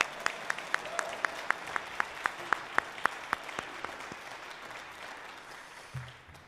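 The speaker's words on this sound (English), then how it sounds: "Give them a round of applause" An audience at a honor band concert gives the band a round of applause, scattered clapping with a few sharp, evenly spaced claps up front, thinning and fading toward the end.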